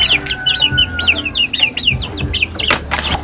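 Native chickens and their chicks cluck and cheep up close, a busy overlapping run of high chirps and lower clucks that continues steadily with no talking.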